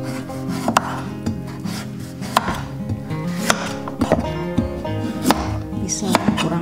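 Peeled pumpkin, zucchini and potato are rubbed against a grater in short repeated strokes, each a rasping scrape with a sharp knock, close and fairly loud with an uneven rhythm and no talking.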